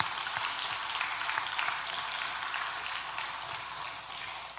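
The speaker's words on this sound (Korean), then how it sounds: "우리 서로 격려의 박수 하시겠습니다" A church congregation claps together in a continuous, even patter of many hands, moderately loud and slightly distant, holding steady before easing off at the very end.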